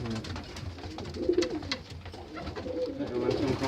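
Tippler pigeons coo softly at close range in a loft, low throaty murmurs repeating over a steady background hum, with no talk.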